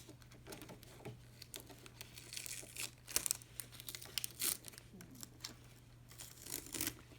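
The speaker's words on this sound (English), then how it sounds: "I am going to take this tape off." Tape is peeled off an in-the-hoop embroidery piece for a softball bag, giving faint, close crinkling and tearing crackles in short, uneven bursts.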